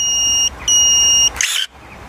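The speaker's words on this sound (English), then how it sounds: "To set them back to the bigger aperture, hold it in, wait for the beep" A Kebtek YDN-007 electric pruning shear gives two sustained electronic beeps with a short gap between them, followed by a brief mechanical click and whir.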